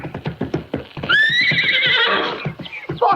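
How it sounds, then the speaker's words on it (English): A horse in a riding ring being worked as a jumper whinnies loudly in a long rising neigh, with rhythmic clip-clop of hooves before and after, close and clear in a radio drama scene. "Take it easy with that horse."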